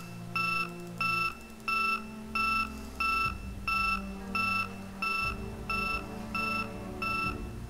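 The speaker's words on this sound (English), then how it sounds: "I think that's an alarm system on the house or something." Repeated electronic double beeps pulse at a steady rhythm over a low droning hum, a house alarm chirping continuously in the video game Project Zomboid.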